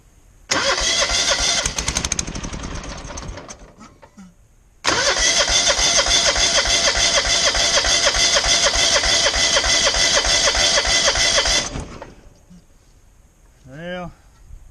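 A Lawnboard lawnmower motor with fuel trouble is cranked and fires up, roaring loudly and steadily up close for a few seconds, cutting out, then starting again and running for about seven seconds before dying away.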